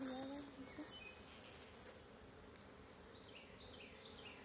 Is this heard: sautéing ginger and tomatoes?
no